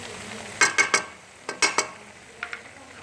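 Spoon scraping and stirring dry milk powder into carrot halwa in a pan, a run of sharp clicks and scrapes in short bursts, close and fairly quiet with no talk.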